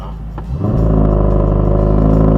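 A Dodge Demon 170 engine, held hard on the brake, climbs from a low idle into a loud, sustained full-throttle rev, with a deep steady rumble and no voices.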